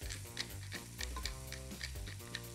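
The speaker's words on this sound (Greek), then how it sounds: "Το πράσινο και το κρεμμύδι έχει μπει μέσα στην κατσαρόλα, οπότε ανακατεύουμε εδώ." Leek greens and onion fry in oil in a pot for an artichoke velouté soup, giving a steady close sizzle with light crackles throughout, under a bed of tonal background sound.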